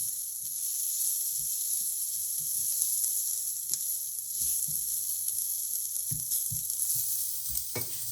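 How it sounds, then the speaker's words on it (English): Garlic fries in a pan for an eggplant pasta alla Norma, a bright continuous hiss and sizzle close to the mic with a few soft clinks and stirring taps scattered through it. "Then add garlic and fry until both ingredients take on a slightly pinkish brown color."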